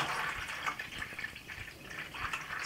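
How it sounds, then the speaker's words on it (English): Water poured from a bottle into the tank of a LetPot LPH MAX hydroponic planter makes a continuous, close splashing trickle that rises and falls slightly. "So as I'm pouring this,"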